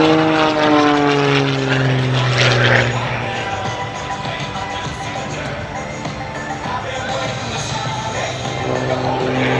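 Aerobatic propeller airplane manoeuvring at the Dayton Air Show, its engine droning loud and steady with shifting pitch as it climbs, turns and rolls, over a continuous outdoor crowd ambience.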